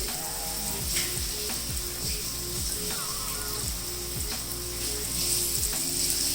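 Onion lachha paratha frying in desi ghee on a pan over low heat, giving a steady close crackling sizzle throughout with small pops and occasional scraping clicks, no talking.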